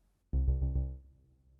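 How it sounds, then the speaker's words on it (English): A bass sample plays back from an Elektron Octatrack, a single loud, clean low tone with a few note steps in quick succession, then fading out over about a second. "Here's the bass sample"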